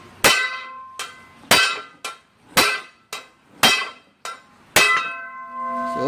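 Hammer striking a bent SYM VF3i motorcycle rim in a D.I.Y. repair, about ten sharp metallic clangs at an irregular pace, close and loud, each one ringing briefly.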